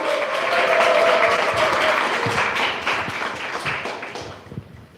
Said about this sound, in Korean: 많은 박수로 환영해 주세요